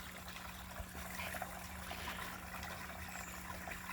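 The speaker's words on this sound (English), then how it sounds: "Has the waterfall to keep it aerated." Water from a small waterfall trickles and splashes steadily into a recirculating goldfish pond in a shaded garden, a soft continuous burble close by with no voices.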